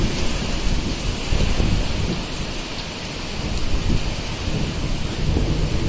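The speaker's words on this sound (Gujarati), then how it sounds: "અમદાવાદમાં બહુ મુશળધાર વરસાદ છે" Torrential rain pours steadily over Ahmedabad, a dense, loud wash of drops with deep thunder rumbling underneath throughout, no voices heard.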